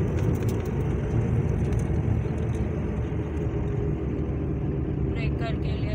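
A car on a driving practice run, with the clutch and a shift into third gear, gives a steady low engine rumble and road noise throughout, with someone talking inside the cabin.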